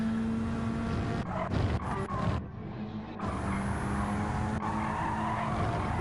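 Car tires skidding and scrubbing for grip during a Gran Turismo 7 online race, a steady loud engine drone with a brief dip and burst of broadband squeal noise midway, continuous throughout.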